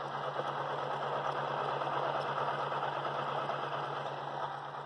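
Magnet-rotor generator spinning at 532 RPM, a steady, even mechanical hum and whir that stays constant and fairly close throughout, with no talking.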